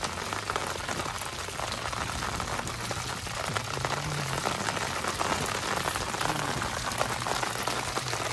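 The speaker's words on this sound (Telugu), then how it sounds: "వాన ఘోరంగా ఎక్కువ అయింది" Heavy rain pours down steadily outdoors at night, a dense, continuous hiss of drops drumming on surfaces at constant loudness, with no voices.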